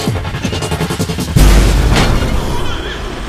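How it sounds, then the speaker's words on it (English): Logic bomb power going off in the video game Remember Me, a sudden deep boom that rumbles on for a couple of seconds after a stretch of rhythmic game sounds. "Let's try the logic bomb."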